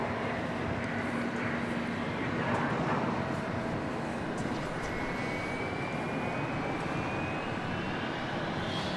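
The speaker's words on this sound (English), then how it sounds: "I hear a jet plane." A jet plane's engine roars at Dallas Love Field airport, a loud, continuous broadband rush with a slowly rising whine, steady throughout with no talk.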